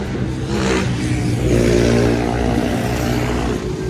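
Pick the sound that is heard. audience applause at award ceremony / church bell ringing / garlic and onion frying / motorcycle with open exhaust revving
motorcycle with open exhaust revving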